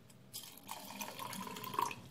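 Water poured from a small vessel onto rice sitting in a glass, a soft steady trickle and splash that is faint and close, with no voices.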